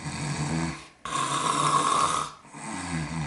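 A voice imitates loud snoring from a man asleep on a plane, a close, rasping snore held for over a second between softer breathy stretches, with no other talk.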